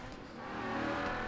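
Car engine revving up in Forza Horizon 3 at a race start, a brief rising engine roar that swells louder over about a second.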